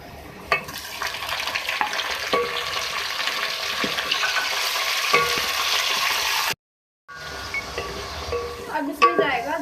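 Chicken pieces sizzling loudly in a pan of browned onions while being stirred, a continuous hiss of frying with occasional scrapes of a spoon, briefly interrupted and then resuming with clinks.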